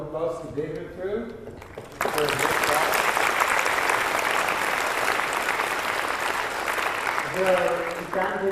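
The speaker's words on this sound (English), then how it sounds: "let's all give a big round of applause to David too" A lecture audience breaks into loud, sustained clapping for physicist David Gross at the Strings 2016 conference, with a man's speech before the clapping begins and again as it fades near the end.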